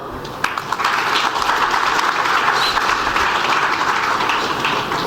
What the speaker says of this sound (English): So he needs a great applaud.